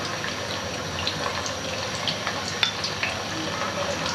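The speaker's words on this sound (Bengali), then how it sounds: "চিংড়ি মাছটা এটাতে ছেড়ে দেব।" Shrimp marinated in salt and spice frying in hot oil for Eid special noodles, giving a steady, close sizzle with scattered crackles and pops throughout, no voices.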